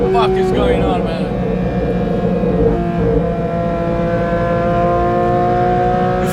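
A Porsche track car with a 4-litre six-cylinder engine idles and burbles with a low, steady rumble, loud and close throughout, its pitch rising briefly at the start.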